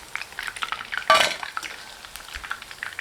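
Chicken Manchurian pieces fry in oil in a home kitchen with a soft, steady sizzle, broken by one sharp metallic clink of a utensil against the pan partway through.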